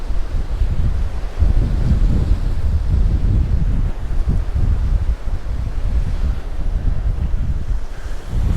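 Strong wind rushes and buffets across the open seaside at Palmanova, Mallorca, with kites and windsurfers out on the water, a loud, constant roar with gusty surges and no talk.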